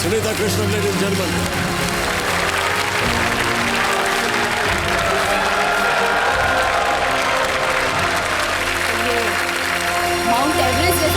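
Applause from a TV studio audience greeting social activist Sunitha Krishnan, sustained clapping and crowd sound layered under music and a host's voice at a steady, loud level.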